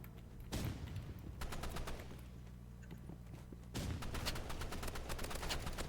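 Shotgun fire in the online shooter game Rivals: several rapid sharp blasts in two clusters, fairly faint and heard without talk.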